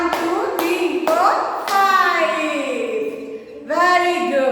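A nursery class of children claps along while an adult counts in a sing-song voice. Sharp, evenly spaced claps sound through the chanting, nearby and lively.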